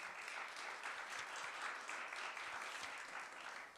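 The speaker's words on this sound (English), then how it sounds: "So let's do another round of applause for Ace." Sustained audience applause for a musician at an evening art and advocacy program, steady and dense clapping from a full room throughout, with no voices over it.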